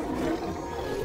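A tiger roars in the video game Minecraft Legends, one sustained rough growl lasting about a second, close and fairly loud with no talk over it.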